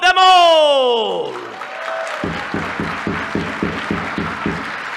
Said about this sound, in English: let us applaud them all!